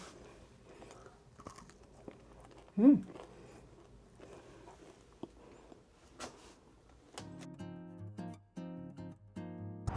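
Quiet, close crunching and chewing of crunchy walnut bread, with soft bites and mouth sounds, then a melodic tone briefly rises near the end.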